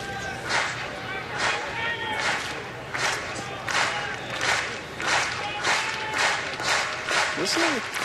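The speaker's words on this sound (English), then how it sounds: "Listen to the crowd giving the old applause to get him going." A big baseball stadium crowd at a New York Mets game in Detroit claps in rhythmic bursts, the steady beats rising over a broad roar of fans as the crowd urges a player on.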